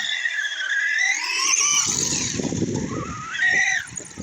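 A 1/6 scale FG Baja RC buggy on worn summer tyres screams with a high, whining engine note, then slides into a rough gritty skid under hard braking, loud and close, with the engine rising again at the end.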